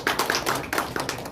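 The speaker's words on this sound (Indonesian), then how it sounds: "tepuk tangan sekali lagi untuk beliau" Applause breaks out for a candidate at a Surabaya 2020 election media gathering, a short burst of crisp, scattered claps from a small group, fairly close and without talk over it.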